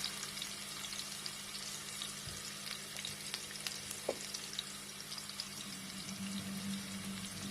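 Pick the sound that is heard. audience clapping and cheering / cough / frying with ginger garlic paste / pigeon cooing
frying with ginger garlic paste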